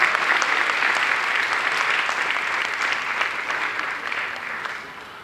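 Sustained audience applause fills an auditorium at an awards ceremony in Bangalore's Ravindra Kalakshetra, steady dense clapping from a large crowd that holds loud for several seconds before easing slightly at the end.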